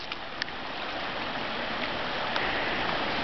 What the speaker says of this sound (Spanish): Estamos en el río Escabas